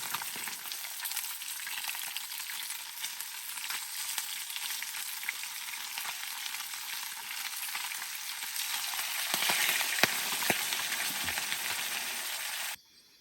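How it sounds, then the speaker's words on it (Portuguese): Fish fries in a pan on an outdoor campsite in Rondônia's wilderness, giving a continuous close sizzle and crackle for about thirteen seconds that stops abruptly at the end. "Pense no peixe perigoso de fritar."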